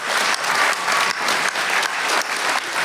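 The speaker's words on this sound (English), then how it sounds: "give yourselves a round of applause" Heavy applause from a horror convention crowd at a Silver Scream Con panel, a dense, loud roar of clapping with slight surges, continuing without a break.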